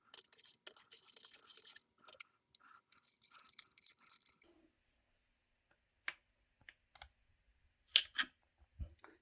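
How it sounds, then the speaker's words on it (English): Metal-on-metal clicks and ratcheting scrapes as a threaded flange is turned into the back of a Law Tactical Gen 3 folding stock adapter, close and fairly quiet, in short bursts with pauses and a few sharper clicks near the end. "you're going to use your threaded flange here, and you're just going to thread that in from the back"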